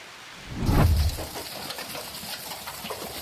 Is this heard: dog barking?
no